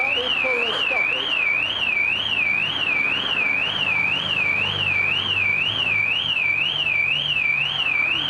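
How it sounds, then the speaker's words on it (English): A car alarm wails in a steady rising-and-falling siren at a woodland setting in Epping Forest, loud and continuous throughout, with faint rumbling and a brief voice-like sound near the start. "Why can't they turn the alarm off?"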